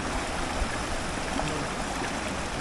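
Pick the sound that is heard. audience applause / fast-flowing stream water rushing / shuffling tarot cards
fast-flowing stream water rushing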